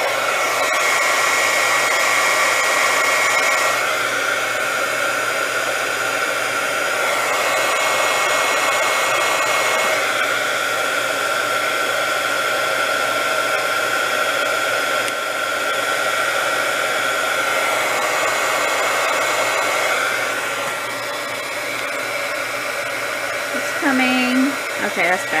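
A heat tool blows hot air over a craft card, a loud continuous whooshing hiss that runs steadily for about twenty seconds before easing off, with a few faint handling noises at the end.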